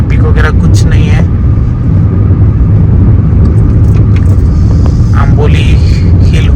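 A car drives along a concrete road through hilly forest country, its steady loud rumble and road noise filling the whole stretch, with someone talking over it.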